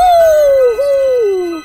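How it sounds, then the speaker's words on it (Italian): A dog howls in one long, loud, falling tone with a brief break midway, close by and alone. "Questo ululato mi è familiare"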